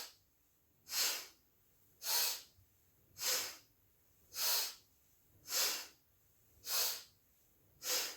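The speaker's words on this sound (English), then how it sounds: "Just a few more breaths in and out." Rapid forceful breaths through the nose, seven sharp evenly spaced bursts about one second apart, close and loud with quiet gaps between, during a spinal flex exercise.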